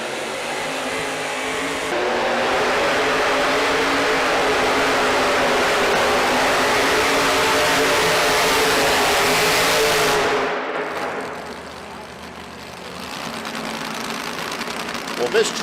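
A vintage modified pulling tractor roars at full power during a run at the VTPA Nationals tractor pull at Freedom Hall, a dense, loud engine blare that holds steady, then drops away as the run ends. Crowd and announcer sounds mix in.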